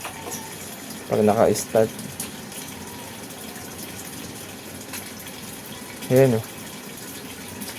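Water gushing out through the opened drain of an automatic washing machine with a worn rubber drain seal, a steady splashing flow under intermittent nearby talk.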